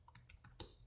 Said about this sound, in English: I'm typing it in the comments.